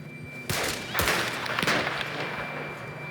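Several sharp gunshots in Red Dead Redemption 2 crack in quick succession, fairly close, over a steady background hum.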